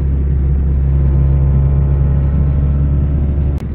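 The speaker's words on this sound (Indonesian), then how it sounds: "ini sedang melakukan test drive Honda Stilo tahun" Engine of a 1995 Honda Civic Stilo during a test drive, a steady loud low rumble with a constant drone, heard alone.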